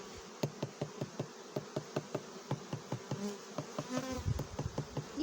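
Carniolan honey bees buzzing in a steady low hum during a hive inspection, broken by frequent sharp clicks and taps, up close with no voices.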